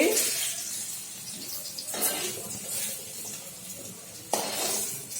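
Sugar frying in a pan of oil for a prawn curd dish, a soft bubbling sizzle with occasional stirring scrapes and clinks, fairly close and continuous.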